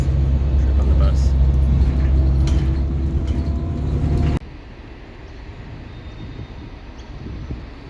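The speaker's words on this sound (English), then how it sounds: "Trip on the bus." Interior rumble of a bus ride in Caloundra, a loud low engine drone with faint mechanical rattles that cuts off abruptly halfway, leaving a quieter, thinner ambience.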